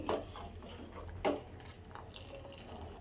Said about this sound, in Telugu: ఒకసారి ఇలా కలుపుకోండి